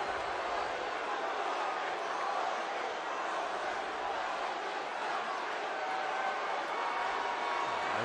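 Wrestling show crowd reacting to Roman Reigns, a continuous blended din of boos and cheers from a large arena audience, steady and fairly distant.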